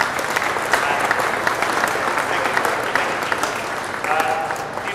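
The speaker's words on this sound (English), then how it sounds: "Big applause for the girls who were showing what we were doing." An audience at a coaching clinic applauds the girls who demonstrated the drills: dense, continuous clapping at full loudness for several seconds with sharper individual claps poking through and a brief voice near the end.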